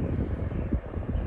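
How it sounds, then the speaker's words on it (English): Large airplane at Leeds Bradford Airport, a low continuous engine rumble and roar heard from some distance, mixed with wind noise, with no talk. "Big, big airplanes there"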